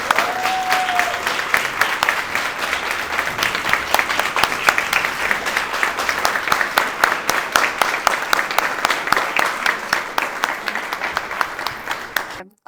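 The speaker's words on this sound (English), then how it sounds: "Let's give them a big round of applause." A ceremony audience at a Rotary Character Awards event gives recipients sustained applause, dense clapping that stays loud and even for about twelve seconds before stopping abruptly, with a brief voice audible at the start.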